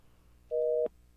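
A radio call-in phone line gives one short, steady electronic busy-signal tone that ends abruptly with a click, over a low background hum, with no voices.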